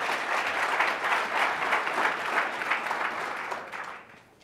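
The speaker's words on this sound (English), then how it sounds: "Give them all a warm round of applause." An audience at an Oxford-style debate in Chicago claps steadily and warmly for several seconds, a dense even wash of applause that fades out toward the end.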